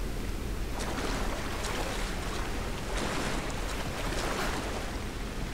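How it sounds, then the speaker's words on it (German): In the Tomb Raider game, a waterfall rushes in a constant broadband roar, loud and steady throughout with slight surges, with no talk over it. "ob wir den Wasserfall blockieren können"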